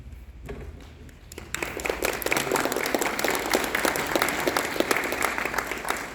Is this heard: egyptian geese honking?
no